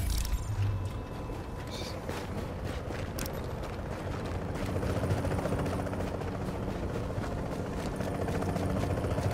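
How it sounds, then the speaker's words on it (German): A helicopter's rotor drone in the video game The Division thrums steadily throughout, fairly loud and continuous, with faint mechanical clicks at the start. "Hier fliegt ein Hubschrauber bei mir."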